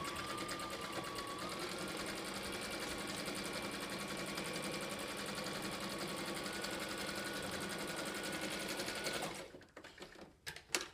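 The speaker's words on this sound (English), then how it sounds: "So let's sew that real quick." A sewing machine runs steadily for about nine seconds to finish the selvage edge of a Swedish weaving blanket, then stops, leaving a few soft handling noises at the end.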